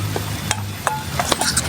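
Bamboo shoots stir-frying in a pan outdoors, a soft steady sizzle with several sharp clinks and scrapes of a utensil against the pan at irregular moments.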